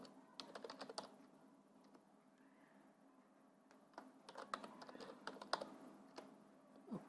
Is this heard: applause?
no